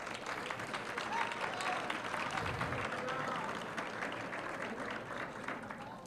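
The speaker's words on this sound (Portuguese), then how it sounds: "aplauda Jesus." Church congregation claps together in a sustained, moderately distant round of applause with crowd murmur, continuing evenly for several seconds.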